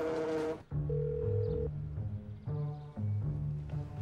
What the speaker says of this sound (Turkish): Abim arıyor. Açsana.